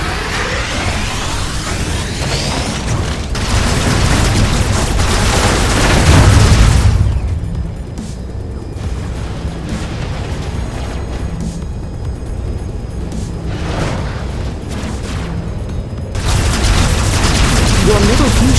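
Booming explosions hit a fusion tower in a strategy video game, with heavy bursts and crackling blasts rolling through the scene, fading mid-way and then swelling again, while a voice talks over the action.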